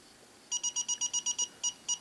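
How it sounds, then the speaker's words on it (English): A Radex ONE Geiger counter dosimeter sounding its alarm while measuring uranium-glazed pottery: sharp high electronic beeps in a rapid regular burst of about eight, a brief pause, then a few more, close and clear over a quiet background. "the alarm started right away"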